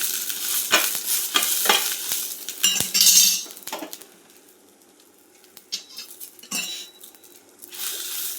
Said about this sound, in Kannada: ಅದು ಸಹ ಒಳ್ಳೆ ಅದರಲ್ಲಿ ಫ್ರೈ ಮಾಡ್ತಾ ಇದ್ದೇನೆ.